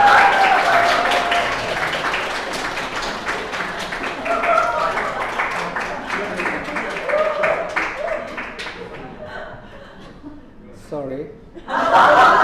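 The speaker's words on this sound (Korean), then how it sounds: "박수." Congregation applause during a Korean church Sunday worship service welcoming a member's husband, a sustained spread of claps mixed with chuckles and talk, tapering off before a short renewed burst at the end.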